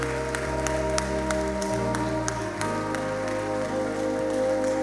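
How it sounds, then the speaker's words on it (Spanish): Applause from a church congregation during worship, a broad steady patter of clapping layered over sustained organ or keyboard chords that continue underneath throughout. "dar un aplauso al Señor?"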